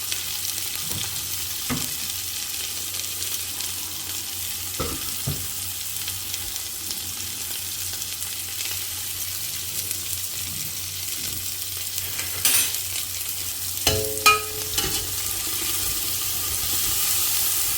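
Masala sizzles and fries steadily in hot oil for an Andhra-style fish curry, a continuous close crackle with occasional stirring clinks and a few louder scrapes near the end, no talking.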